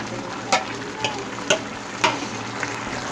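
A chicken and vegetable pulao is stirred in a pot, with a few distinct scraping strokes about every half second over a soft steady sizzle.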